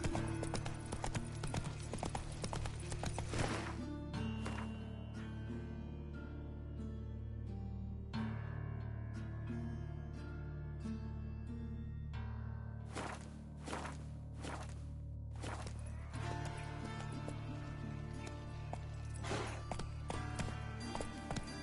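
Horse hooves in The Witcher 3: a steady, rhythmic clip-clop of galloping hooves that runs the whole length over a constant bed of ambient game sound, with no talking.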